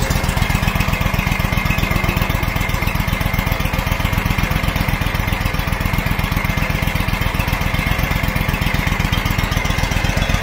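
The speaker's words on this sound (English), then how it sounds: "Engine sounds good." A powerbuggy's small engine runs at a steady, rapid even firing rhythm, loud and close, without speech, like a lawn mower chugging.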